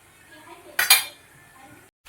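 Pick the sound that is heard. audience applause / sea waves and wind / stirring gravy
stirring gravy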